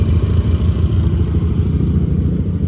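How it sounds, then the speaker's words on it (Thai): A car engine just started and idling, giving a loud, steady low rumble with slight clattering pulses, close by and alone without talk. "อันนี้เนี่ยก็สตาร์ทรถแล้ว"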